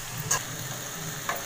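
Beans and potato curry being stirred in a pan, a soft steady sizzle with two brief scraping clicks of the spoon, close and fairly quiet, with no talking.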